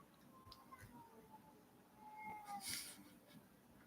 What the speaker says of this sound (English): Oh, my cat's crying at the door.